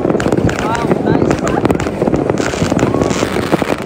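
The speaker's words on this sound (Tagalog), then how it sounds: "Ang ganda ng bagong taon dito na mga paputok dahil sa mga snow." New Year fireworks explode over a snowy setting, giving dense, loud, continuous crackling and popping bangs with excited voices in the mix.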